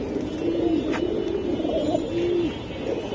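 Pigeons coo in low, repeated rolling phrases, with a young squab among the birds at a pigeon seller's coop. The calls are close and steady over a constant background hum, with no talking.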